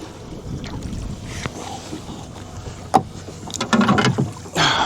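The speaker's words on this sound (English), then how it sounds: "The wind, I know I keep saying the wind 100 million times, but it's driving me nuts." Gusty outdoor wind buffets the microphone during crawfishing, a low rumbling roar that swells and eases, with a few scattered knocks and small splashing sounds nearby.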